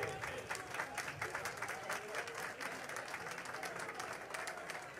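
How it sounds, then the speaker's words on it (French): Faint, steady applause from a crowd at a Haitian public gathering, rippling claps heard at a distance with little variation. "On applaudissement pour Dinepa."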